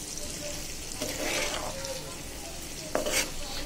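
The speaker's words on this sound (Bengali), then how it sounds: "এগুলো একটু ভালোভাবে ভেজে নিই" Garlic, ginger and dry spices fry in oil with a continuous close sizzle, brief stirring scrapes punctuating the hiss, in a Bangladeshi home kitchen.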